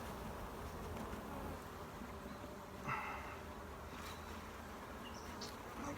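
Honeybees buzz steadily around an open hive during a split, a dense, close drone of many insects with occasional louder passes near the listener.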